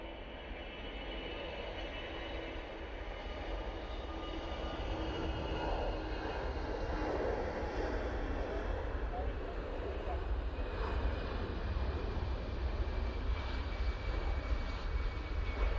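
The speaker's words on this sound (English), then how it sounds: "an EasyJet touching down" An EasyJet airliner touching down at Manchester Airport, a broad steady roar of engine and rushing air that swells slightly and holds loud for the whole stretch, with no voices over it.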